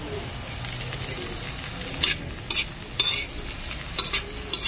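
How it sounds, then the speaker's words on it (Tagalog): Green onions and carrots sautéing in a pan give a continuous sizzle, with a few sharp stirring scrapes of a utensil against the pan and no talk. "Salo tayo ng gisa"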